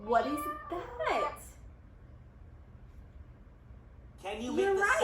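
A child imitates a cat with a couple of drawn-out meows, then a pause of near silence before another meow-like call.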